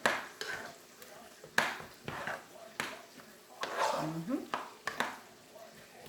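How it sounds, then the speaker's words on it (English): Almond unsweetened original milk being stirred into mashed potatoes, giving soft scraping and squelching mixing strokes in irregular bursts, with a few utensil knocks against the pot and talk running over it. "I'll give these a mix up in here."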